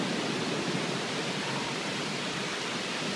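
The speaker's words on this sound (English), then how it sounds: "there's just like pouring rain" Heavy rain pours down at night in a steady, dense hiss that stays even and unbroken throughout, with no other sounds standing out.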